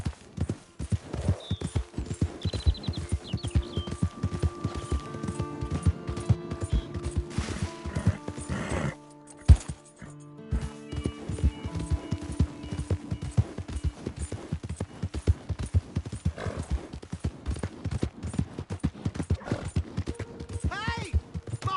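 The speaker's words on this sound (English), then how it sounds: "Hey! My horse!" Horse hooves clip-clopping on the ground in the Red Dead Redemption game, rapid steady hoofbeats through most of the stretch with occasional whinnies, a brief dropout midway, and voices talking over parts of it.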